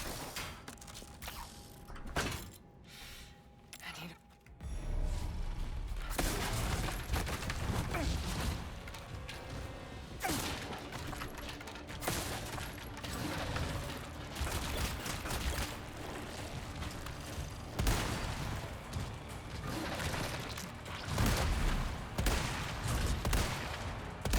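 Gunfire in Resident Evil 4 Remake, sniper rifle shots cracking out in a dense game fight, with mechanical reloading clicks and a steady loud bed of combat noise that kicks in after a quieter opening.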